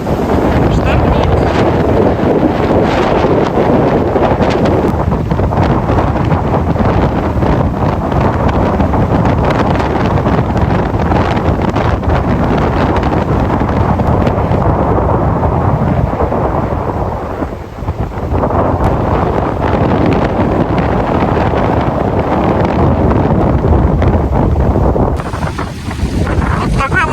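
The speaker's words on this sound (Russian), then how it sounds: "штормит." Stormy spring wind in Spain roars loudly and continuously against the microphone, with heavy buffeting gusts and a low surf-like rumble that last throughout.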